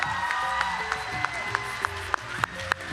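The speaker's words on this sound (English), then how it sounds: "Madison Eastland, applaud the poet" Audience applause fills a poetry slam after a poem ends, a steady dense clapping wash with a few sharper claps standing out, lasting the full stretch.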